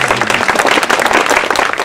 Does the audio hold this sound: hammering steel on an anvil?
no